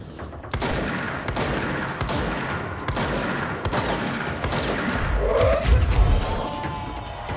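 Gunfire in the Alan Wake Control DLC game, a dense, continuous barrage of shots with thuds and heavy impacts that builds into a louder burst near the end, with no talking over it.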